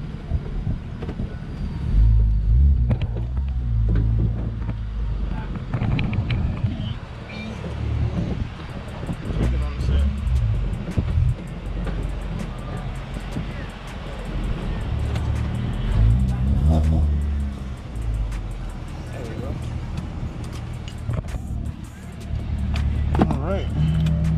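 A car reverses into a spot at a gas station, its engine a low, steady rumble with occasional clunks and road noise throughout, and voices talking over it.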